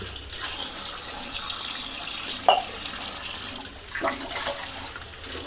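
Kitchen tap water runs steadily as a counter is washed down, a continuous near splashing hiss with a couple of brief clatters partway through, no talking.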